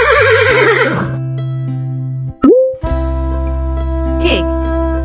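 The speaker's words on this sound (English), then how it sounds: "Horse." A horse lets out a loud, close whinny with a wavering, descending pitch, followed by snorting and a second shorter neigh over a sustained low background tone.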